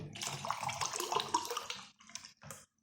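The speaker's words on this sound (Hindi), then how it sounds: "इसके अंदर पानी डाल दूंगी।" Water poured from a cup into a cooking pot on a lit stove while making beef yakhni pulao, a steady close splashing pour lasting about two seconds, then a few shorter splashes.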